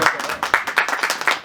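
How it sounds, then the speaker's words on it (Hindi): Audience applause at a film trailer launch event in India, a burst of many hands clapping with irregular sharp peaks, fairly close and lively throughout the short stretch. "तालियों में कंजूसी है,"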